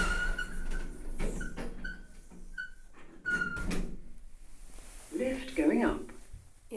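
Rope-hung lift doors at Christopher Place shopping centre in St Albans slide shut, with a series of short repeated tones followed by a rumbling, rattling door movement near the end, heard close in an enclosed space.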